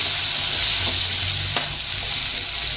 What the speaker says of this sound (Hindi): अब इसे हम अच्छी तरह से भून लेंगे।